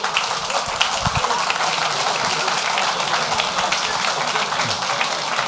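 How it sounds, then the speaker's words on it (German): An audience claps at a mayoral candidate event in Timmendorfer Strand, giving steady, dense applause that runs the full length without pause, close and moderately loud. "Ja, da klatscht ja doch welche für mich."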